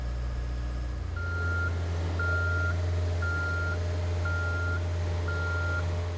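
A boom lift drives during a function check, its low engine hum steady underneath while a travel alarm beeps five times at an even pace, loud and close.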